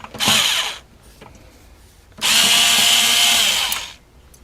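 A power screwdriver removes motherboard screws in two loud whirring bursts, a short one and then a longer sustained run, close up with quiet gaps between.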